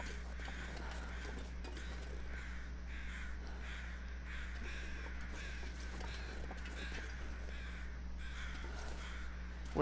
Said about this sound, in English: hear all these crows